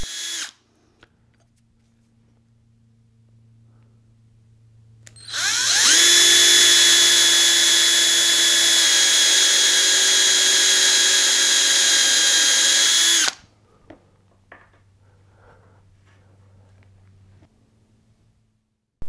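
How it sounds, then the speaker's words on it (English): A power drill with a brad point bit whines steadily at high pitch for about eight seconds, drilling a hole in an electric violin, starting and stopping abruptly, with quiet room noise before and after. "indicates the depth that I need to drill"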